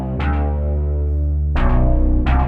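Factory preset Birdland on a Korg Kronos 3 workstation, a sustained layered synth chord with low bass and percussive attacks near the start and around a second and a half, playing loud and steady with no talk.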